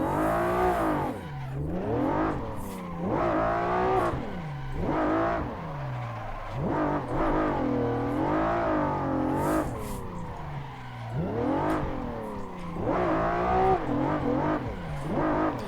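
A Nissan 400Z drifts in the racing game Assetto Corsa, its engine repeatedly revving up and falling back in surging swells alongside tire squeal, loud and steady across the whole stretch with no talk.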